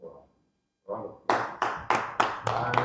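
Applause from an audience at a Labour Party diaspora gathering, starting after a short pause and building into several sharp bursts of clapping that settle into a steady, fairly close round of hand claps.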